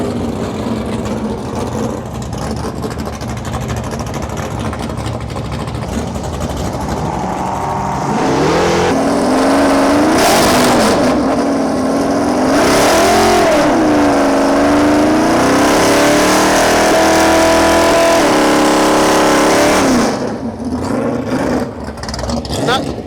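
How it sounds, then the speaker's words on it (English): A drag race car does a burnout at Santa Pod during a Dragstalgia event, its engine roaring loud and sustained with rising and falling revs for about ten seconds, a commentator talking over the rumble before and after. "But I'd be happy if that was my first burnout."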